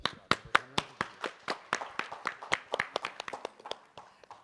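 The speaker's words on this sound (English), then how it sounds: "A huge round of applause for all our speakers today." An audience applauds the speakers at a business leadership summit, with a brisk run of scattered, fairly close claps that thin out and fade toward the end, no talk over it.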